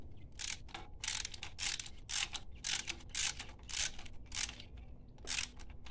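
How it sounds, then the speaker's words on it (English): A socket ratchet handle turns on a spark plug in a Honda Jazz i-DSI 1.3L engine, giving a steady run of close, crisp ratcheting bursts in a regular back-and-forth rhythm, heard alone without talk. "And then you're going to get your socket, your ratchet handle."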